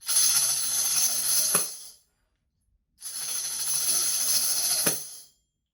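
Two shimmering tambourine rolls of jingles, each sustained for about two seconds and ending with a sharp accent before fading, separated by a short silence.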